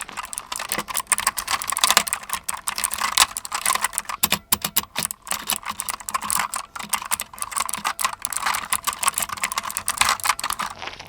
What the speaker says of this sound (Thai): สำหรับเสียงของคีย์บอร์ดตัวนี้